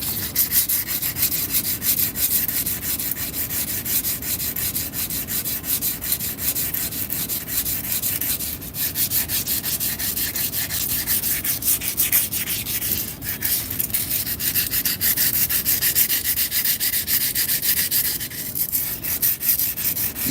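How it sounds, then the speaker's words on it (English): A grinding wheel smooths rough, pitted metal with a steady, harsh abrasive rasp that runs loud and unbroken the whole time, with no talk over it. "You don't want to go crazy with a grinding wheel either on this thing"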